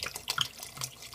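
White wine poured into a pot of wild mushroom soup over very low heat, a brief light splashing trickle with small liquid bubbles and drips, close and quiet.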